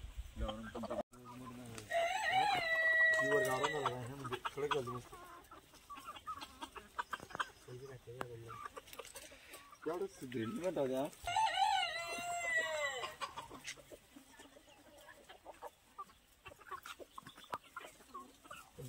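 Free-range country chickens cluck and squawk in a lively flock in a farm shed, with drawn-out calls and occasional crowing among steady background noise.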